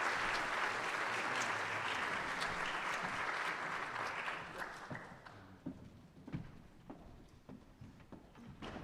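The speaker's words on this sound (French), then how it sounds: "je vous demande d'accueillir et d'applaudir nos 3 invités, Karine Marais, Paul Pavlovitch et Didier Va" A conference audience applauds as three guests are welcomed, dense steady clapping for about five seconds that then thins into scattered individual claps and thumps.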